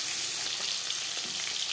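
Rohu fish pieces fry lightly in oil in a pan, giving off a continuous bright, hissing sizzle with faint crackles, close and steady throughout, with no voices.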